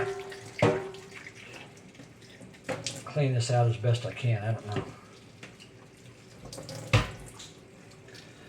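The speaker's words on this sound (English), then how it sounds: "I'm just putting some soapy water in here." Soapy water poured and splashed into a flood-damaged, mud-caked car instrument cluster, with irregular gurgling and trickling bursts close by while someone talks intermittently over it.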